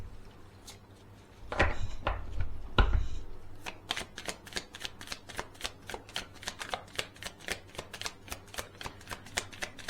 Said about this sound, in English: with all the cards flipping over